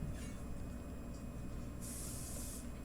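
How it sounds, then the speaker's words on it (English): A spray bottle mists a dough scraper in a home kitchen, a steady hissing burst arriving after a quiet stretch over a low background rumble. "Spray the scraper."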